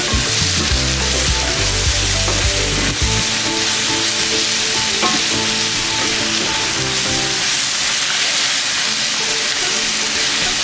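Mutton curry sizzles loudly in a hot pan while it is stirred, with a constant hissing fry and clattering scrapes of the spoon near the start, close and steady, with no talking.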